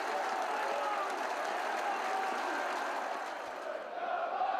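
A football stadium crowd of over 14,000 at London Road roars steadily after a Peterborough United goal, a broad, continuous wash of distant cheering and clapping that dips briefly near the end.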